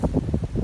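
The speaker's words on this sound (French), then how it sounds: "il y a un vent, on se croirait au milieu de l'Atlantique Nord" Strong wind gusting through a vegetable garden, low buffeting rumbles pulsing in quick surges against the microphone, loud and close.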